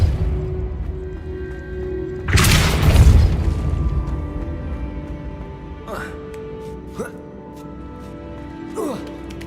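A Depulso spell cast in the video game Hogwarts Legacy, a single loud whooshing burst that hits and fades over about two seconds, followed by a few short sharp swishes and chimes against quiet game ambience.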